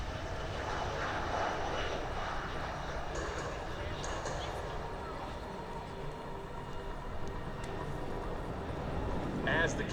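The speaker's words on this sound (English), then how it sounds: "As the KC-135 Stratotanker climbs to prepare for today's demonstration" A KC-135 Stratotanker climbs at an air show, its engines giving a loud, steady broadband roar that holds throughout, with a voice talking over it.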